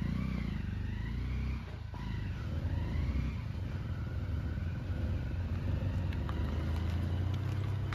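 A car creeps slowly uphill under clutch control, its engine giving a steady low rumble nearby with slight rises and dips in load and no voices.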